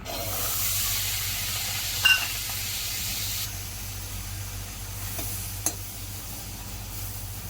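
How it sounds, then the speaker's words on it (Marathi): Green peas roast in a pan, a steady spitting sizzle and hiss that eases partway through, with a couple of brief clicks of stirring. "सर्वप्रथम हिरवे वाटाणे भाजून घेऊया"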